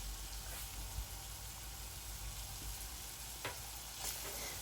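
Tomato frying in a pan for a quick fried rice, a steady close sizzle and crackle running throughout with a few brighter spits, no talking.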